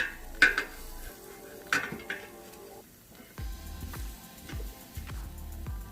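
Metal tongs clank and scrape against a metal air fryer basket as shrimp are turned over, with a few sharp clinks followed by softer rattling and shuffling.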